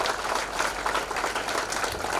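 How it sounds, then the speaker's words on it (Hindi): Steady applause from a congregation at a fasting prayer gathering in Ranchi, a dense, even patter of many hands held at moderate loudness throughout. "और आइए हम लोग एक बार फिर से हम लोग इनके लिए एक जोरदार ताली बजाएं"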